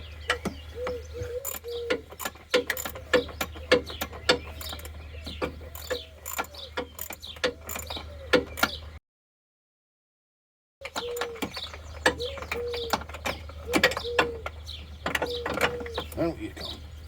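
A wrench ratchets on a 12mm bolt in a car engine bay, giving rapid close clicking bursts that stop briefly partway through and then resume, with occasional talk around them.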